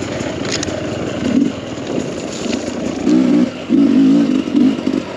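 A tuned Sherco 300 dirt bike with a smart carb runs on a mountain single track, its engine putting out a close, loud rough putter that rises into several short revving bursts.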